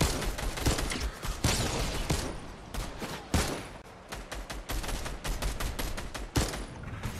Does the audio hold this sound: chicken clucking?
no